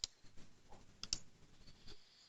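Mouse clicks on a software button in a computer application, a couple of sharp, close clicks in an otherwise quiet room.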